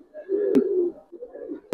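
A pair of giribaz pigeons coo in short, low, throaty phrases close by, with two sharp clicks or taps cutting through, in an otherwise quiet setting.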